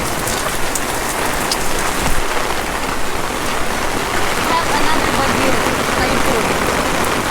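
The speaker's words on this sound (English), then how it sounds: "It's never stopped raining, has it?" Heavy tropical rain pours steadily onto surfaces during a storm in Naga City, Philippines, close and loud, an unbroken hiss of drops with no clear gaps throughout.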